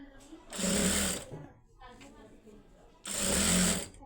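A sewing machine stitches a seam joint in fabric, with two loud close bursts of fast mechanical whirring and a voice talking between and under them.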